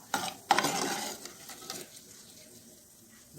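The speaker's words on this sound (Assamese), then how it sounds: "লগতে আলমণ্ড বাদামখিনিও ভাজি ল'ম।" Almonds fry in ghee in a pan, giving a soft sizzle broken by a few sharp stirring scrapes and clinks near the start.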